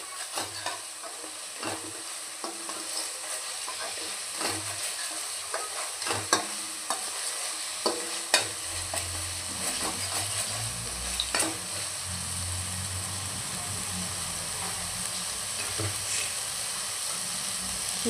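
Ground masala for a crab curry sizzles steadily in a pan as it is sautéed, with a soft continuous crackle and occasional spatula scrapes and taps, and no voices.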